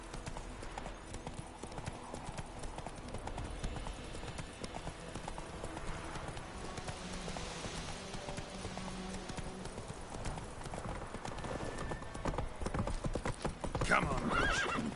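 Roach, a horse in The Witcher 3, gallops with fast, continuous hoofbeats and whinnies, loud and close, while voices talk over the action.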